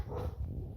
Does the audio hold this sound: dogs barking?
yes